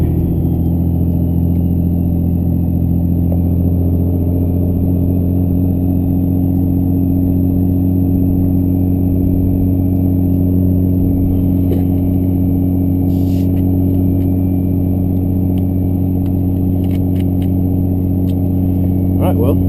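A twin-turbo Cummins diesel pickup truck drives with a steady low engine drone, with a fault in its wastegate, heard close from inside the cab as a continuous rumble with faint rattles and no rising rev.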